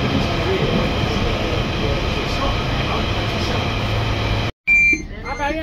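A London Underground tube train gives a loud, steady rumble and roar for several seconds before the sound cuts off abruptly.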